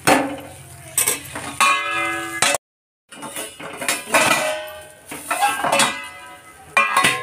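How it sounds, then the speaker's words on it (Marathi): A metal lid clatters onto a cooking pot during preparation of dry zunka, with several ringing clinks of metal cookware, a brief silent gap, then more clanks and rattles up close. "आता 2-3 मिनिटं झाकण ठेवूया वरती."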